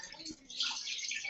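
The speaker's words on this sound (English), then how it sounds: "for the lemonade, we are going to put 1 liter of water inside the Thermomix." A liter of water pours into a Thermomix bowl for lemonade, a steady hissing splash that swells after a soft start and runs continuously, close and moderately loud.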